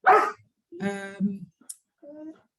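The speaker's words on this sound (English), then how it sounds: "my dog is not happy." A dog barks and whimpers indoors in a few short, close bursts with pauses between them, clear and fairly loud.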